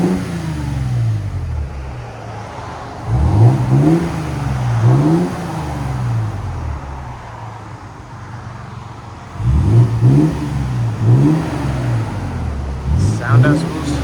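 A 2022 Toyota Tundra with a 3.4L V6 and Borla ProXS exhaust revs repeatedly from idle, with two clusters of sharp rising and falling revs separated by a steady idle, close and loud.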